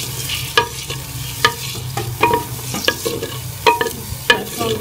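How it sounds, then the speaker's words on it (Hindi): Chopped onion browns in desi ghee as a base for mustard-green saag, a soft sizzle broken by repeated sharp scrapes and taps of a spatula stirring in the pan, over a low steady hum. "और इसके अंदर मैं ये प्याज डाल दूँगी, इसे हम"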